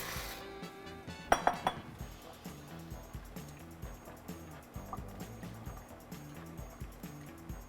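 Dry macaroni pours into a pot of boiling salted water, giving a brief clatter of pasta against metal, then settles into a steady bubbling simmer under quiet background music.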